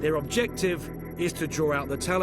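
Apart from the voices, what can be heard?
No everyday noises stand out.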